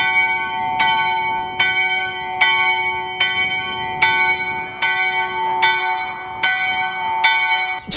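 Church bells ringing in a hilltop bell tower, a loud, steady series of about nine ringing strikes spaced under a second apart, each one sustaining a bright metallic hum into the next.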